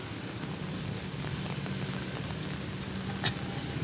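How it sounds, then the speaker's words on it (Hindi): Light rain falls on Dalazak road in Peshawar, heard as a steady, even hiss with a low background rumble and no talking. "सड़क पर हल्की हल्की बारिश है"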